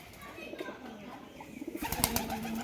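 Domestic pigeons coo in low, rolling calls as the flock returns home, the cooing growing busier and nearer toward the end, with a person talking in the background.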